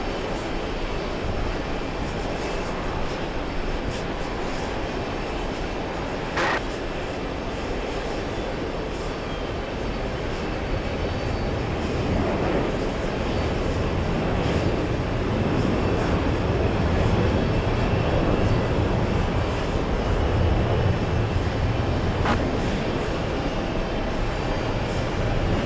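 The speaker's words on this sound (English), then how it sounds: "GE90s are starting up" GE90 jet engines spooling up at JFK airport, a steady broad roar that swells gradually over about twenty-five seconds amid constant airport background noise.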